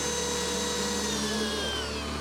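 A power drill whirs steadily, tightening 12 mm bolts on a drift car's differential at a pro drift championship in Liwa. The motor holds one continuous pitch for about two seconds, close up.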